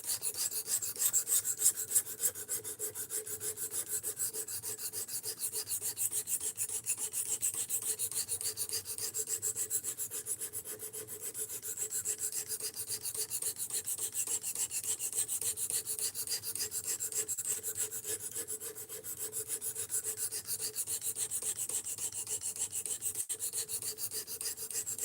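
A D2 steel knife blade is sharpened against an abrasive, giving a steady, rhythmic rasping of quick repeated strokes, close and continuous, with no voices.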